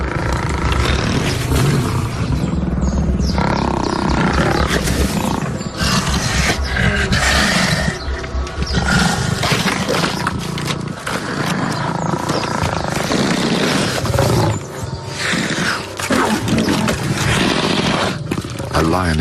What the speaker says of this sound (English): A lioness manages to seize the spoils, and the other lions challenge her for it.